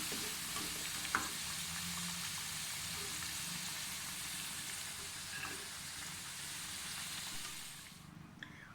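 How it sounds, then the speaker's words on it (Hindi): Potato pieces frying lightly in hot oil in a home kitchen, a continuous close bright sizzle with occasional stirring clinks and bubbling, fading slightly near the end. "आलू हमारे फ्राई हो गए हैं। हल्के से, बस हल्के से फ्राई करने हैं।"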